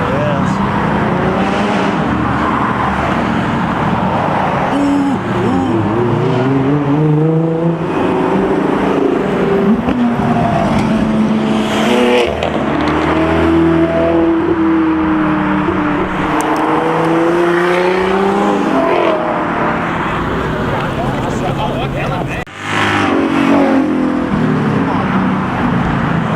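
A 2000 hp underground-racing STO car revs loudly and continuously as it leaves a car meet in Morrisville, its rising and falling engine pitch sweeping through the clip while people talk nearby.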